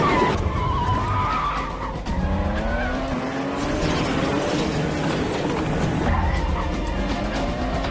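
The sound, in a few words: car speeding and skidding in a movie chase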